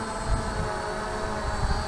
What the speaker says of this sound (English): It's a very stable drone.